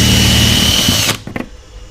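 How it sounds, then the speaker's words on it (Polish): A power drill bores a hole in freshly laid sheet metal on a camping trailer under renovation, whining loud and close for about a second before stopping abruptly, followed by a few short clanks and quieter room sound. "dziwne uczucie wiercić w świeżo położonej blasze, którą przez kilka dni tu żeśmy rzeźbili i teraz miałem tutaj wywiercić otwór"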